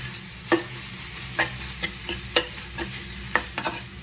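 Stirring a mixture frying in a pan over a low gas flame, with a steady soft sizzle under a series of sharp spoon scrapes and knocks at irregular intervals, close and fairly loud, no talking.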